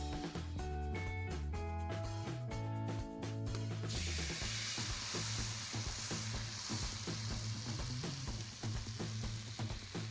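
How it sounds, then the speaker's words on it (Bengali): Oil and ghee heating in a pan, with rapid clicking and rattling at first, then a bright, steady sizzle that takes over and continues alone, close and quiet. "তেল আর ঘিটা গরম হয়ে গেছে।"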